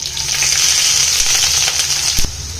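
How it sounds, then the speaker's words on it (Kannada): Green chillies and onion fry loudly in hot oil for a tempering, a dense bright sizzle held steady throughout, with a brief sharp knock near the end. "ಸ್ವಲ್ಪ ಈರುಳ್ಳಿ ಎಲ್ಲ ಫ್ರೈ ಮಾಡ್ತೀನಿ।"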